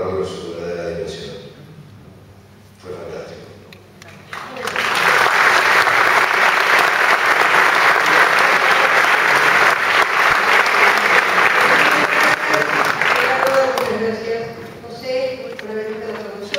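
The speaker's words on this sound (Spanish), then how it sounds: "Yo le pido un aplauso para José, por favor." Audience applause at a talk with an actor swells into loud, sustained clapping that lasts about ten seconds before fading. Voices can be heard before and after the clapping.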